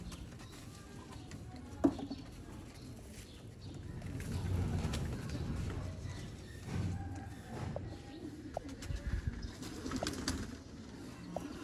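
Pigeons coo softly at a Sialkot pigeon-keeping game setup, low murmuring calls at a distance under faint background noise and occasional soft knocks, with no clear voices.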